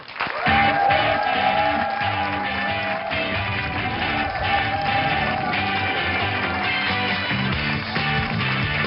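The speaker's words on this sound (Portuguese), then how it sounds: "Recebam os doutores com um forte aplauso." A large television studio audience claps and cheers steadily, with music playing underneath, the applause holding strong and loud throughout.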